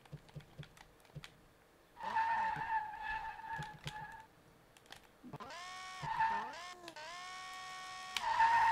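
A BMW M5 E28 fitted with a V10 drifts in the Street Legal Racing Redline game, with high revving engine whine that rises and falls and long tire skid squeals across several bursts, with clicky input noises in between.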